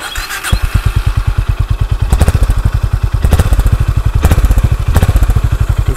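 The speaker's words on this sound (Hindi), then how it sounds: "और हाइनेस की आवाज़ तो आपने सुनी है, वो भी आपको सुना देते हैं। RS में भी सेम आवाज़ है" Honda CB350 RS motorcycle exhaust with a loud, close, steady rapid thump, swelling briefly in a few short revs; no voices.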